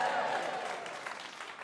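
A comedy club audience at The Comedy Store applauds and cheers after a joke, a broad wash of clapping and crowd noise that starts loud and slowly thins over under two seconds.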